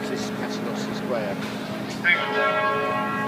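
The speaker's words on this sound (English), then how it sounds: "The 9 o'clock bell rings" The nine o'clock bell in Paternoster Square, London, rings out as a sustained, ringing metallic tone that swells in partway through, over a steady hum of background city and crowd noise.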